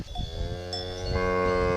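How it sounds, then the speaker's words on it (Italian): Cattle moo in a long, low, drawn-out call near the Colle della Maddalena, fairly close, with a faint clank that may be a cowbell. "adesso mi fate i muggiti della foresta"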